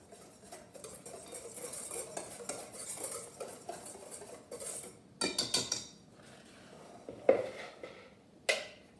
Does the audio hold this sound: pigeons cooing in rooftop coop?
no